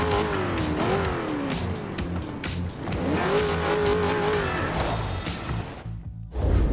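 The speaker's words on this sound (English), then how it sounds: "I'm gonna give it a little rev just to see" Race cars roar through a Forza Horizon 4 event in a 90s-era class, engines revving and rising in pitch with tire squeal, loud and continuous before cutting off abruptly near the end, then a short burst.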